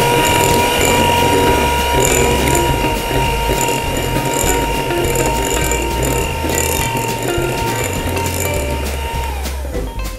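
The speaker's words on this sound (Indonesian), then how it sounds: "Oke, saya mixer menggunakan kecepatan rendah." An electric mixer on low speed blends cake batter for a legit roll cake, giving a loud, steady mechanical whir with a faint rattle that runs unbroken for the whole stretch.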